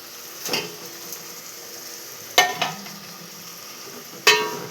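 Chopped tomatoes are stirred into a curry in a pan, giving three sharp spoon-on-pan scrapes spaced out over a soft, steady background hiss, close and fairly clear with no talking.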